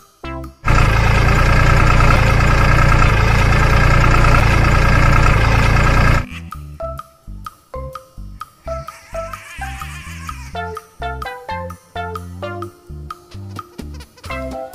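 A toy tractor makes an idling engine noise, a loud, steady droning rumble that lasts about five seconds and then stops abruptly, followed by a plinking melodic tune.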